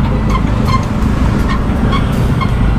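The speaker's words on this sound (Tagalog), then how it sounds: "Naipit ako sa EDSA ang traffic." Heavy road traffic on EDSA rumbles continuously up close, a dense low drone of engines with brief higher-pitched squeaks and whines cutting through at intervals, and nobody speaking.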